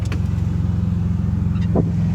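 A 5-speed Subaru XT6 coupe with a six-cylinder engine drives on the road, its steady low engine drone and road rumble heard from inside the car, with a faint click near the end.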